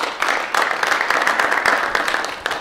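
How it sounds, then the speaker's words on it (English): Audience clapping steadily at a district capital plan meeting, a dense even patter of many hands lasting the whole stretch, fairly loud and close. "I've been a round of applause for them"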